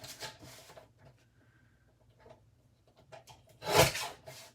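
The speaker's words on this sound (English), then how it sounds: "I just have a little Tim Holtz trimmer right here. Again, you're just going to cut off just a super thin line right there." A small Tim Holtz paper trimmer slices a thin strip off card, with soft rubbing and sliding noises followed by one sharp, brief cutting swipe near the end.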